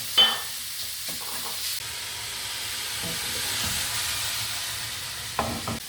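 Ground meat for chili con carne sautés in a pan with a soft, steady sizzle. A couple of louder clatters come near the start and again near the end, with no talk.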